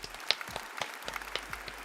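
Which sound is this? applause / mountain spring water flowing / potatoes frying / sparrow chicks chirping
applause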